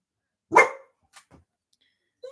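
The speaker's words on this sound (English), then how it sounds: "Sorry about the barking" A dog named Chico gives one sharp, close bark followed by a couple of faint, short yips in an otherwise quiet room.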